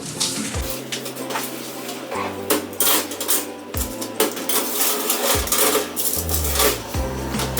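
A scone baking tray slides into the oven with a series of metallic clanks, scrapes and rattles from the tray and rack, spaced out over several seconds.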